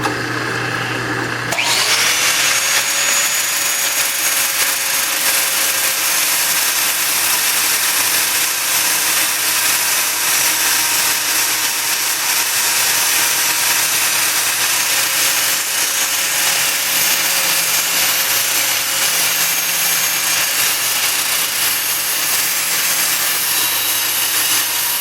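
Angle grinder clamped in a drill press during bodywork on a 1937 Plymouth Convertible, spinning up after a short start and then running as a loud, steady, high whine for the rest of the clip with no talk.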